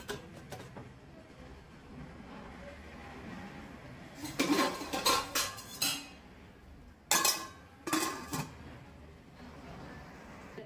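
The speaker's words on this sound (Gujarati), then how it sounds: "આપણે આ ડીશ કાઢી લેશું તો આપણે બીજી ડીશ પણ ભરી લીધી છે" Dhokla plates are handled in a kitchen, with bursts of metallic clinks and clatters around the middle and near the end of the clip, close and fairly sharp over a low room hum.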